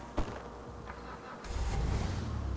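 A VW bus engine in GTA 5 cranks with a brief click and catches, then settles into a low, rumbling idle that swells and holds steady, close and moderately loud.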